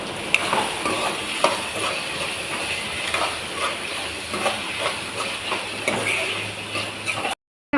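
Ginger-garlic paste and tomatoes softening in a pan for chicken curry, with a steady hissing sizzle and irregular stirring scrapes close by; a brief break near the end.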